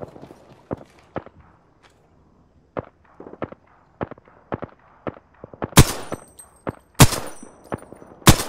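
Gunfire in the battle royale game Apex Legends, with sharp single shots scattered across the stretch and a denser, louder cluster of bursts toward the end, mixed with quick footstep-like taps.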